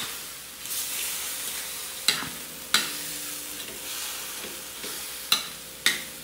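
Spicy chicken adobo with bean sprouts being stirred in a frying pan, a steady sizzle broken by several sharp scrapes and clacks of the utensil against the pan, close and alone with no talk.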